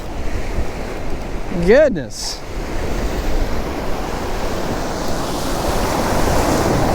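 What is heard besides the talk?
ocean waves breaking on the beach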